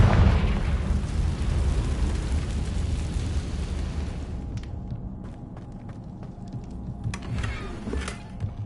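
The Confringo explosive spell cast in Hogwarts Legacy, a loud rumbling blast that dies away over several seconds into quieter crackles and small pops.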